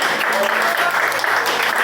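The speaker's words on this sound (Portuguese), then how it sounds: "Pode aplaudir ao Senhor em nome de Jesus." A church congregation clapping together, a steady, dense wash of applause from many hands, with voices faintly mixed in underneath.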